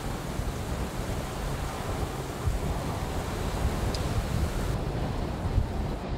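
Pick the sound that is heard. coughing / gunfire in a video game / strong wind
strong wind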